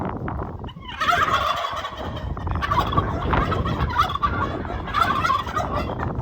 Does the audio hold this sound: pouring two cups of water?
no